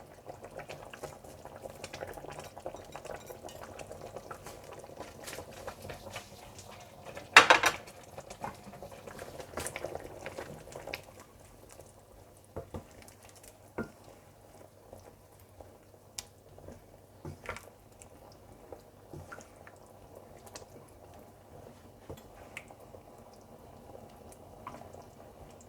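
Water comes to a boil in a pan for chicken kabab karahi, giving a soft, steady bubbling and popping patter close by. One sharper clatter sounds early, then the low simmering continues evenly.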